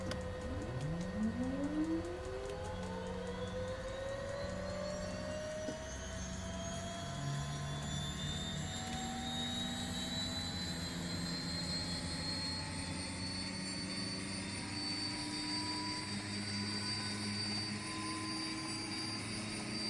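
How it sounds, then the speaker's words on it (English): A Beechcraft Duke twin turboprop starting up in a flight simulator, a rising whine that spools steadily upward and settles into a loud, continuous turbine drone with an engine hum underneath, heard alone. "All right, let's roll on number 2, clear prop."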